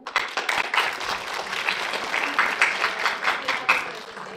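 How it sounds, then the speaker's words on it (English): Audience applause at an international geography conference honoring an award-winning student, a close, lively patter of many hands with distinct individual claps popping out, steady for several seconds. "I would like you to, all of you, to applaud Mihai Bratu."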